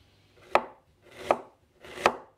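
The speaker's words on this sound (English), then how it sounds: "We minced the ginger and pound it with the garlic." Three evenly spaced knife chops on a board as fresh ginger is minced for a garlic paste, crisp and close with short quiet gaps between strokes.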